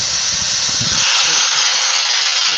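A Hitachi variable-speed power tool, used while turning a yew burr bowl, runs at very high speed with a steady, loud, bright whine and hiss throughout, with low rumbling bursts in the first second.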